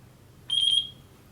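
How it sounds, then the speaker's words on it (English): An RC transmitter in binding mode gives a short, bright electronic beep lasting under half a second, slightly pulsing, clear and close against a quiet background. "It will start giving a beep."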